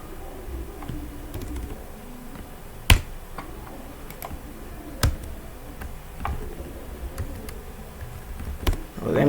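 Computer keyboard typing at a desk: sparse, irregular key clicks and taps, close and crisp, spaced out over several seconds against a quiet background hum.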